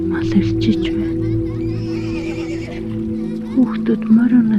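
A horse whinnies and neighs during a calm guided meditation scene, the call rising near the end over a steady, soft ambient music drone that runs throughout.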